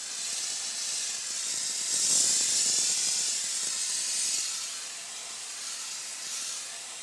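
A continuous steady hiss of water spray close up, washing out a photoresist stencil film on acrylic for sandcarving, running unbroken with slight swells in intensity.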